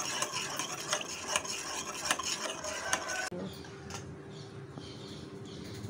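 A spoon stirring salt into fresh lemon juice in a small bowl, quick clinking and scraping strokes over a low background hum, growing softer midway.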